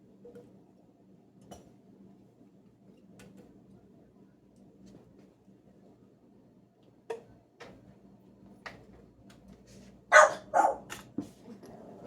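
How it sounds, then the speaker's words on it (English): A few sharp dog barks ring out in a short burst near the end, after a quiet stretch with faint ticking and low background noise in a kitchen during pressure canning. "I'm sorry about the barking, folks."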